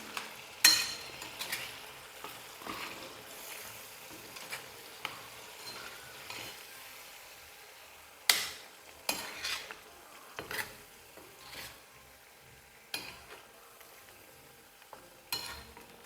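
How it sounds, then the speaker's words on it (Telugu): Prawn curry in a pan with a spice paste being stirred in, spoon scraping and clinking against the pan in scattered bursts over a faint, quiet simmer, with no talk. "మనం ఈ పేస్ట్ని కూరలో అయితే వేసుకుందాము. మనం దీన్ని కూడా ఒకసారి కలుపుకొని"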